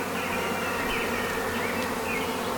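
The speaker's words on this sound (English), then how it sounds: "the bees will be able to come and go if the queen's still on that post" A dense, steady buzzing of many honey bees at a horizontal hive entrance, close and continuous, with no voices.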